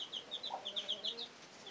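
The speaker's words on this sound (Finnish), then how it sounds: "Siinä on nuorimmat tiposet. Ja emokana on siinä" A mother hen with very young chicks makes soft, quick clucks in a steady series, with faint high peeps from the chicks, all heard at a low level in a quiet coop.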